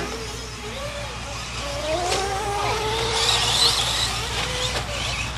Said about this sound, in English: So, four-wheel drive, short course truck, working on the track right now